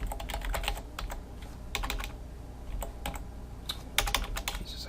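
Rapid, uneven clatter of keys on a computer keyboard, with bursts of quick keystrokes and short pauses, close and fairly quiet with no voices.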